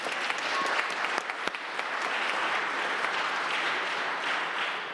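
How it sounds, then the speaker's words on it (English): An audience at a Cleveland City Council meeting applauds in a steady, dense wash of many hands clapping, holding even for the full stretch with a couple of sharper individual claps near the start. "let's get him another round of applause if we could"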